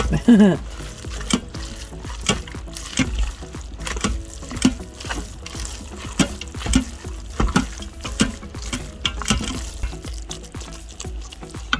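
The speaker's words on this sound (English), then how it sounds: "So we're gonna mix all that up in there." A spoon stirs lemon pepper chicken with orzo and wilting greens in an Instant Pot, giving close, repeated wet scraping and sloshing strokes in an irregular rhythm, fairly quiet and with no talk.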